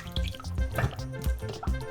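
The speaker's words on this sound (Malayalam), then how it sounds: "ചൂടുള്ള കുറച്ച് വെള്ളം ഒഴിച്ച് ഇതിൻ്റെ ഐസ് ഒന്ന് മാറ്റിയെടുത്ത്" Hot water being poured over frozen food in a kitchen to thaw the ice, heard as close, uneven splashing and dripping with a few soft knocks, moderately loud.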